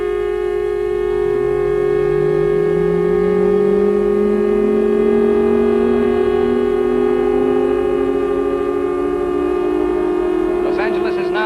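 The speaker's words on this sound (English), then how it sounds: "There go the blackout sirens now." Air raid sirens wail over Los Angeles during a wartime blackout, several tones rising slowly together in a long, loud, steady drone with a faint hum beneath.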